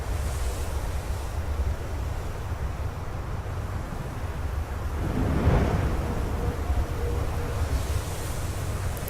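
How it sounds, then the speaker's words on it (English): Strong wind roars steadily on a windy night in the video game Flower, a broad continuous whoosh that swells briefly in the middle, with no voices. "So much wind. It's a very windy night."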